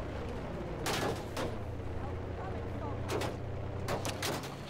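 Anti-air gun fire in Battlefield 5, heard from a Mosquito fighter plane: a few separate bursts of flak, each short and fairly distant, over a steady drone of engines.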